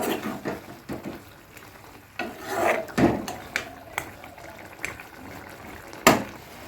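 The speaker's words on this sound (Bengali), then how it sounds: "মাংসের কালার দেখেছ এবার আমি আবার খানিকটা কষে নেব" Chicken pieces being sautéed for chicken posto make a low sizzle under repeated rasping scrapes of a spoon stirring in the pan. The scrapes come in irregular bursts, with one sharp knock near the end.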